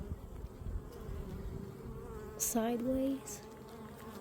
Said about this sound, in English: Look at all those bees. That's a huge swarm.